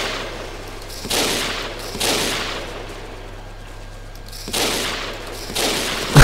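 Gunfire in Battlefield Heroes: several loud, broad bursts of rapid shots at roughly one-second spacing, separated by quieter gaps, with a low steady hum underneath.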